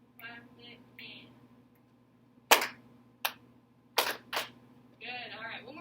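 Students in a middle school band lesson clap a short rhythm together, four crisp group claps spaced unevenly, framed by a teacher's counting voice before and talk afterward.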